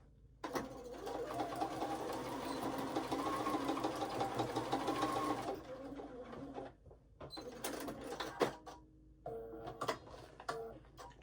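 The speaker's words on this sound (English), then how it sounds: "I'm going to take that to my machine and top stitch that" A sewing machine runs in a sustained burst, top stitching a waist pack strap, then stops, followed by scattered clicks and short handling noises of fabric and the machine.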